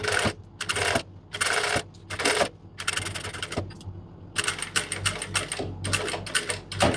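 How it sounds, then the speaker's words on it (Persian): Sewing machine stitching around the neckline of a kimono coat, bursts of rapid mechanical needle chatter separated by short pauses, close and clear, no voices. "پایه رو بلند میکنم، میچرخونم، مسیر دور گردن رو میدوزم"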